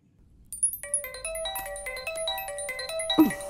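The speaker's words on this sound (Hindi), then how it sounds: "फोन कब से बज रहा है, उठा क्यों नहीं रही है?" A phone rings indoors in a quiet room, a bright melodic ringtone of repeated electronic tones starting after a short silence and continuing steadily, with a brief low thump near the end.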